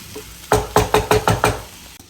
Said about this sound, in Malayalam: നമുക്ക് നല്ലോണം ഒന്ന് ഇളക്കി കൊടുക്കാം